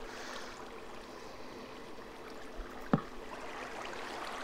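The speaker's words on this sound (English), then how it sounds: "Where's that water coming from?" Steady flowing water from a Minecraft survival world, a continuous soft stream-like trickle heard alone at low level, with one brief sharp click near the end.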